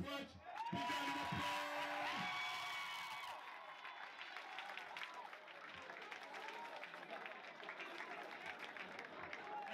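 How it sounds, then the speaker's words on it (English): Stadium crowd at the African Nations Cup men's grand final between South Sudan and Kenya applauding and whooping for the Kenya coach, a loud burst of cheers settling into sustained clapping, with a voice over a loudspeaker at the start. "Let's make some noise, a big round of applause to Kenya Coach."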